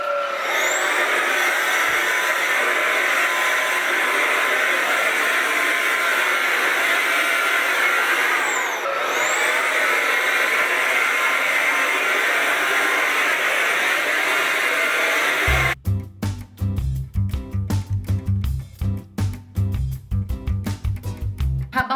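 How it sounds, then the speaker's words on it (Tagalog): A household vacuum cleaner runs loud and close with a steady high whine for about fifteen seconds, then cuts abruptly into unrelated rhythmic music. "Vacuum lang tayo mga mi dahil hindi ako nakapag-vacuum kahapon."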